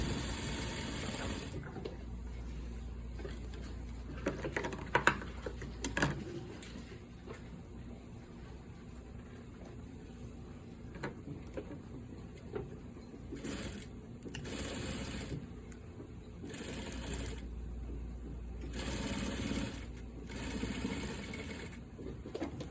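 Sewing machine stitching through several layers of garment lining on a double welt pocket sample, heard as steady mechanical runs in bursts separated by pauses, fairly close and moderately loud.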